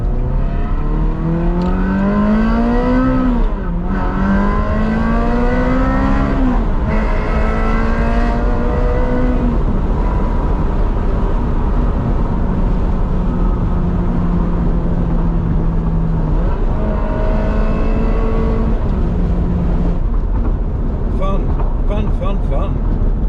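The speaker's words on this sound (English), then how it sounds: "the stock exhaust, it's so much better than the Capristo Stage 3, which was offensive and pretty obnoxious" A Ferrari 360 Modena on its stock exhaust revs loudly, the engine note climbing and falling through several sweeping pulls, with a person talking over it at times.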